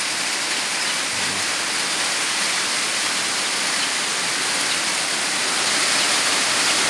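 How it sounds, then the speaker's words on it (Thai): Steady, heavy rain pours down continuously at a cricket farm, a dense, even hiss that holds at full loudness for the whole stretch, with no voices over it. "โอ้โหเสียงฝนตก"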